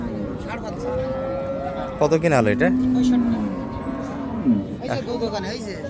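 A Friesian cow lets out a long low moo, with a second shorter moo, beside her bull calf at Raniganj cattle market in Dinajpur, while people talk in the background.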